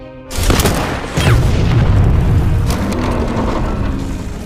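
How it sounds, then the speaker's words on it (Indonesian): A mortar blast in a Soviet-versus-German World War II sniper film lands as a sudden loud boom. A second heavy thud follows a moment later, then a sustained crackling, rumbling aftermath. "Igora pun menggunakan senapan Scott untuk menembak mortir"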